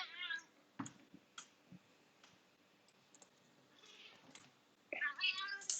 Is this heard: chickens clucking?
no